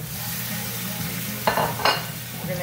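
Shrimp sautéing in a pan with the juice of a whole lemon, a steady soft sizzle with two brief louder bursts of spatter or stirring midway, close and continuous with no talking.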